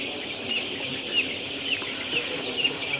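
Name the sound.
chickens clucking while drinking water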